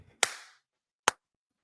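Two sharp hand claps ring out, close and loud, the first with a short reverberant tail, the second briefer, separated by nearly a second of silence.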